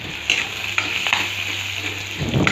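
Dried red chilies frying and sizzling in a pan for an Assamese dish, a steady close hiss with a few brief stirring scrapes and clinks.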